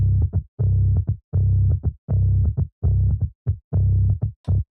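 Low-frequency split of a heavy metal bass tone: tight, loud palm-muted chugs in syncopated bursts separated by short gaps, heard alone.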